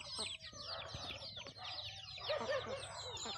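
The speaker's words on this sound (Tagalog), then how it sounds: "Nagpatong na sa kong ulo ang manok." A chicken perched on someone's head clucks close by, with a rapid run of soft clucks and scratchy fowl chatter, quiet overall with faint background noise.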